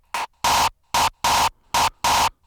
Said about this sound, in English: the sample here, by default, it's already kind of a screaming sample, but I still use amp on top